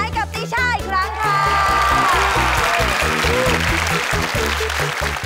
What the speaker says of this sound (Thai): ขอเสียงปรบมือดังๆให้กับติช่าอีกครั้งค่ะ